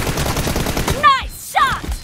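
Gunfire in a team-based shooter video game, a few sharp bursts over busy game audio with voices talking around them.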